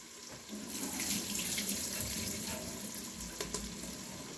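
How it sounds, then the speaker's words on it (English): Water from boiled parsnips, potato and squash pours into a kitchen sink as a steady close rushing splash that runs for several seconds, with a few brief knocks and no talking. "I'm gonna drain the water from the parsnips, the potato, and the squash"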